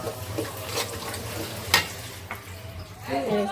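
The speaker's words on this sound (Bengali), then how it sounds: "এখন মশলাগুলো আমি কষিয়ে নেব" Ground spice paste of ginger, garlic, green chili, onion and cumin frying in a pan while being stirred, with a steady sizzle and a few scraping stirs, close and fairly quiet.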